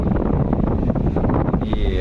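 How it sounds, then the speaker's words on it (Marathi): Strong wind at a sea jetty buffets the microphone in a constant, heavy roar, with faint sounds of water and a boat underneath. "इतका प्रचंड वारा आहे"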